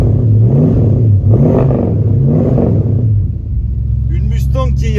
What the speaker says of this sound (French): Elle fait un beau bruit de Mustang.